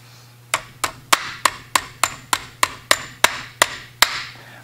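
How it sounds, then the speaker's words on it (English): Sharp, evenly spaced hammer strikes drive a pin into the extractor of a 50-110 rifle bolt, about a dozen close, crisp metallic taps in a steady rhythm, with a faint hum underneath and no speech. "and then drive this pin in."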